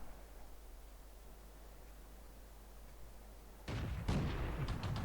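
A tank cannon shot in World of Tanks, a T26 firing, appears as a sudden loud boom with rumble after a quiet stretch, followed by a second hit and crackling debris noise.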